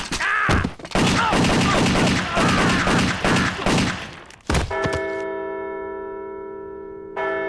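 Gunfire in an animated show, a dense loud barrage of rapid shots, then a single heavy blast followed by a lingering ringing tone.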